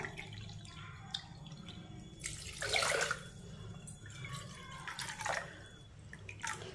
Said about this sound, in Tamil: இப்போ இதுக்கு தேவையான அளவுக்கு தண்ணி ஊற்றிக்கிடுவோம்.